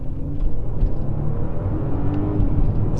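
An Audi Q5 in dynamic mode launching hard from a standstill, its engine roaring and rising in a steady, close, loud acceleration run with tire and road rumble underneath and no talking.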